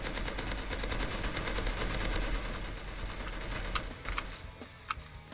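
Rapid gunfire from the Roblox game Silent Assassin rattles in a dense, steady stream, fairly faint under a constant background hum, thinning into a few scattered shots near the end.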